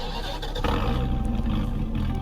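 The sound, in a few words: car engine startup in the Greenville video game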